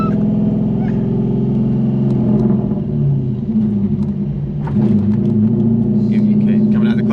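A cammed Corvette with a manual gearbox rumbles steadily at close range, its lumpy idle rising into revs as the clutch is let out, with voices talking over the engine.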